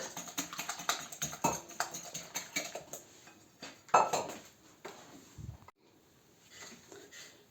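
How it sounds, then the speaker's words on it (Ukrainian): A wire whisk beats egg whites by hand in a bowl, making rapid light clinking taps against the sides in uneven bursts, with a short pause near the end before the whisking resumes more softly. "Вінчиком можна, звичайно, і міксером, але як нема світла, збиваємо так"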